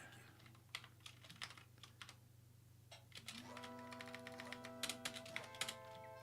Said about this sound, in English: I don't know if my keyboard is really loud and annoying on the stream